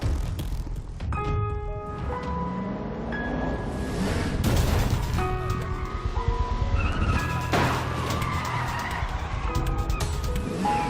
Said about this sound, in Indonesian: Ia kemudian mengejar Yongjun yang melarikan diri menggunakan mobil.